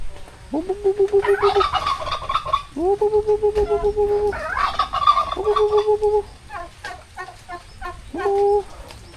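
A pet turkey gobbles nearby in repeated loud bursts, each a rapid warbling rattle, with short pauses between calls and faint clucking in the gaps.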